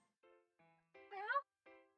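Cat meows from the video game Cats Hidden in Paris, several short separate mews in quick succession with one longer, louder wavering call in the middle, clear and alone.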